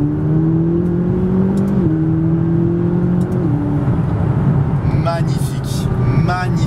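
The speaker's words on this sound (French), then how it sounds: "Ok, donc nous voici déjà dans la McLaren 570 GT, en commençant avec le bruit." A McLaren 570 GT engine hums from inside the cabin, a steady drone that steps up in pitch through gear changes, with faint clicks and brief higher tones near the end.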